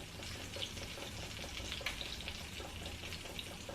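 Butter browning in a pan gives a soft, steady, faint sizzle of many tiny bubbles, with no talk over it.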